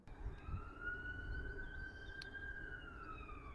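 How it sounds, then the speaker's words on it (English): An ambulance siren passing just over a fence outdoors, a single long rising and falling wail carried over faint background noise, fairly distant but clear, with no talking. "It's a really loud siren."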